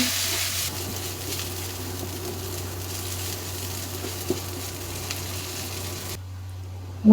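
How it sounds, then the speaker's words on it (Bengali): Shrimp frying in a pan with garlic paste and onion, a low steady sizzle with a few faint stirring knocks, no talking. "রসুন বাটা দিয়ে আমি ভালোভাবে মাছ কথা করছি ভাজা ভাজা করে নিচ্ছি"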